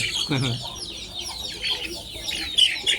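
Chickens on a Thai farm flock affected by swollen-neck disease cluck in short, scattered bursts at moderate distance, with a low thump early on and no voices.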